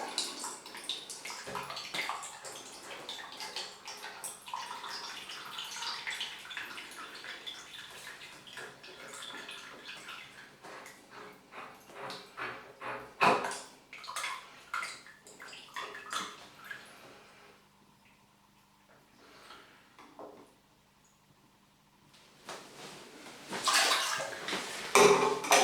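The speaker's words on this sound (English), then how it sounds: "And we can slowly drain the water out." Water trickles and splashes from a cracked-open radiator valve into a drinking glass, a steady close pouring that later tapers off into sparse drips and brief clinks before a final louder burst of flow.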